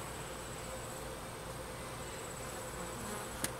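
Honeybees from a cathedral hive full of honey and brood hum as a steady, soft insect drone through an outdoor inspection, with a brief sharp tap near the end.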